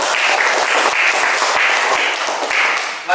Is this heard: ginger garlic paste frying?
no